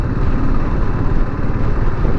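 Bajaj Pulsar 150 motorcycle engine running steadily with a low, continuous rumble and broadband road and wind noise, loud and close throughout, with no voices.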